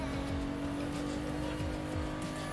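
A video game truck engine revs and accelerates in a steady, loud drone with rising pitch sweeps and a hint of tire noise, continuing throughout without talk.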